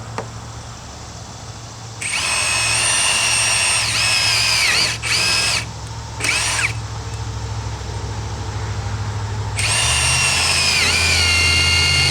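Power drill boring holes in deck boards, whining loudly in long bursts with a couple of short spurts between, close up over a steady low outdoor hum.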